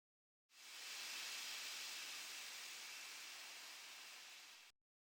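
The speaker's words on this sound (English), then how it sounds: "Steam the vegetables." Steam rising from vegetables being cooked gives a steady, loud hiss that starts abruptly, holds evenly for about four seconds and cuts off, with no other sounds around it.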